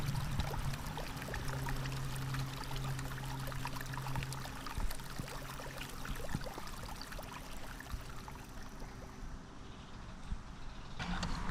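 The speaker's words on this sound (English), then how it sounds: "Look, the water's finding its way." Water flows and trickles steadily at an outdoor racetrack play area, faint and continuous with small splashy dribbles and a low background hum.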